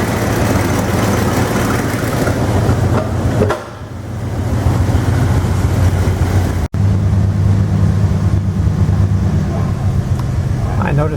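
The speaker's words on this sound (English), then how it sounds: "we'll back it out of the garage." A 1960 Chrysler 300F engine idles with a deep, steady rumble as the car backs out of a garage, loud and close, with a brief dip partway through and talk over the engine.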